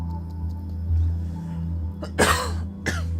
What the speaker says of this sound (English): I'm still coughing a bit.